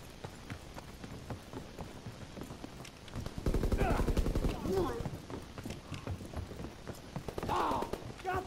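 Machine gun fire from a WW2 team deathmatch video game: a sustained burst of rapid shots in the middle, louder than the scattered distant gunfire before and after, with occasional talk mixed in.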